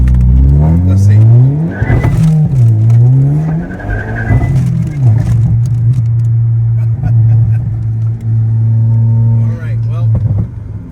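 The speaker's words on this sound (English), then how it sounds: "say full throttle in third gear all the way" A car accelerates hard at full throttle in third gear, its loud engine note surging and wavering before settling into a steady, droning roar heard close by.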